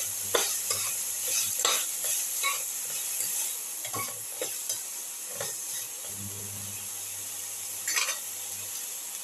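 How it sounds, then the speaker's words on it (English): Food is being sautéed in a pan: a continuous sizzle runs under repeated spatula scrapes and stirring strokes, fairly close and moderately loud. "keep on sauteing. Thoroughly sauteing."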